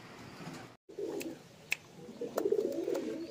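Pigeons kept for sale coo softly nearby, low throaty calls rising and repeating across a quiet room, with a few faint chirps and brief clicks in between.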